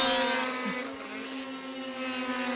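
Racing snowmobiles on an oval track at Eagle River, side by side through turns three and four, make a loud sustained high-pitched engine whine with steady harmonic drone, close and continuous for a couple of seconds.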